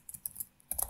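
Computer keyboard keys being typed during a React coding session, a quick run of soft clicks in two bursts with a short pause between, close and clear with no talking.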